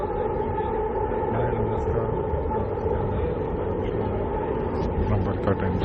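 A metro train runs along its track, a loud, continuous rumble and rolling hum from inside the carriage that holds steady throughout, with faint rattles.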